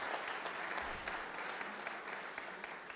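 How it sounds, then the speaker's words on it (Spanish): Audience applause fills an auditorium after a panel discussion with panelists and a moderator at a church event, a dense steady wash of many hands clapping throughout without a break. "un aplauso para nuestros panelistas, para nuestra moderadora también"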